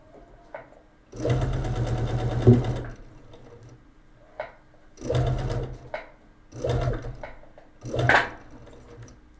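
Sewing machine stitching hexagon patchwork pieces, running in several bursts: one long run followed by shorter close, fairly loud runs, with brief quiet gaps between them and no talk.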